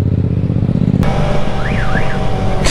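Car alarm triggered by a motorcycle's exhaust, a loud close warbling siren tone that starts abruptly over the steady rumble of the idling motorcycle engine.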